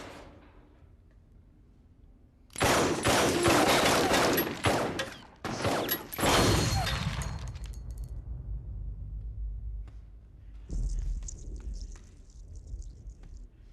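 A handgun loaded with silver nitrate rounds fires two loud, rapid strings of shots with sharp cracks and ringing echoes, then mechanical metallic clicks and a brief high whine as the noise dies away.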